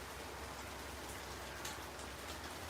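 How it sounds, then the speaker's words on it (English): Steady rain falling at a coastal spot near the ocean, a dense, even hiss of drops on surfaces that continues without pause, fairly soft and distant. "It's been raining here past couple days."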